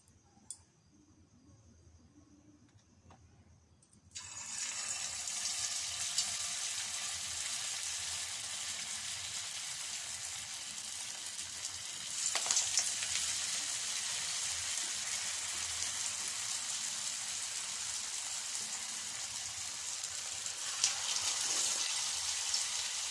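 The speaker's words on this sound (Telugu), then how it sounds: "మీడియం ఫ్లేమ్లో పెట్టుకుంటూ మనం ఫ్రై చేసుకోవాలండి, ఒక్కొక్కటి వేసుకుంటూ" Carrot bites fry in oil over a medium flame, a steady close sizzle that starts abruptly after a few quiet seconds and keeps going, rising slightly midway, with no voices.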